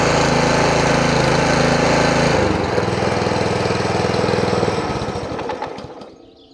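A Hecht 5060 drum mower's petrol engine, started on the first pull, runs loudly and steadily close by, then shifts to a regular idle and gradually fades.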